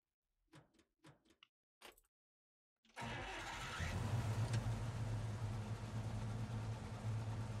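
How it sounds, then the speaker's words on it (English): A GAZ-MM truck in a video game: a few clicks and a clunk, then the engine cranks and catches into a steady, loud, rumbling idle that holds to the end. "You press E, we'll start the engine."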